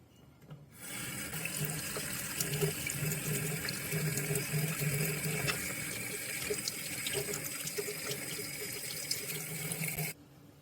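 Ink and water pour out of the barrel of an eyedropper fountain pen being cleaned, a steady close splashing trickle running unbroken for about nine seconds before stopping abruptly.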